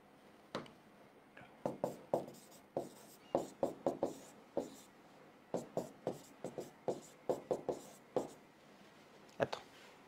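Marker or chalk strokes writing out an aluminium electrochemistry equation on a board, a string of short scratchy taps and scrapes in irregular bursts, close and moderately loud, with brief pauses between strokes.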